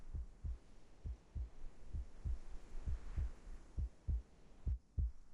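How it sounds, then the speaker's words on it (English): A steady heartbeat from the video game Reverse: 1999, set outside a door, thumps in an even run of about a dozen low pulses over a soft background hum, with no voices. "A heartbeat. Right outside the door."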